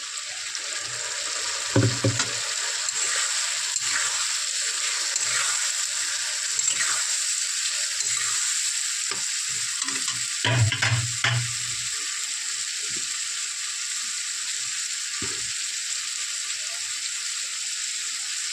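Cumin and mustard paste fries with lightly fried potatoes in a pan for a fish curry, giving a steady close sizzle with occasional stirring scrapes and splashes and no talk.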